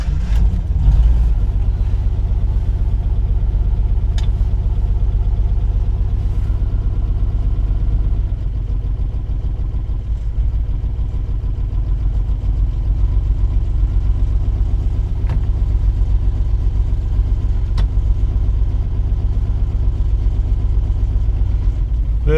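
A Ford Granada Mk1 with a freshly swapped gearbox rolls in drive, its engine a loud, steady low rumble that holds throughout, close and unbroken, without speech.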